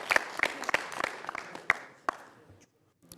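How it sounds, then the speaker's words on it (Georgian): A studio audience at a television book quiz show claps for contestant Ilia, a brief scattered burst of sharp hand claps that thins out and fades to silence within about two and a half seconds. "აპლოდისმენტები ილიას."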